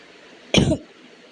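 A single short, harsh cough from a woman with a cold and fever bursts out close to the mic against a quiet room.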